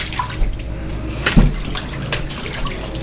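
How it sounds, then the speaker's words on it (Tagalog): Water splashes and sloshes as a child is bathed, with a few sharper splashes over a running, watery background, close up and fairly soft. "Patalsikan mo ng tubig."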